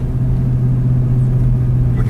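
A 4x4 vehicle driving on an icy, frozen-rutted backwoods road in British Columbia in winter gives a loud, steady, low engine rumble heard from inside the cabin.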